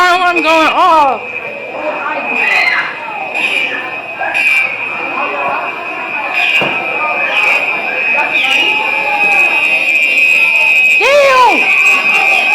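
A school fire alarm blares a continuous high-pitched electronic tone throughout, loud and steady, beneath excited shouting and chatter from a crowd of students.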